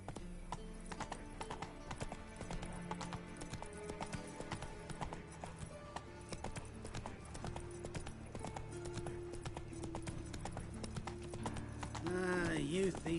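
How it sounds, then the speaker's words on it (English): Horse hooves clip-clopping and galloping in a video game, a rapid rhythmic hoofbeat pattern running throughout alongside game music, ending with a brief whinny-like sound, with voices speaking. "Run, Roach"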